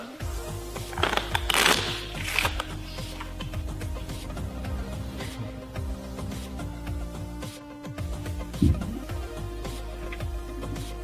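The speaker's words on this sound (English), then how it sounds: "Shuffle those cards up." A deck of playing cards is shuffled during a game show, giving a soft riffling and flicking texture with a few brisk bursts over a steady background hum, with no talking.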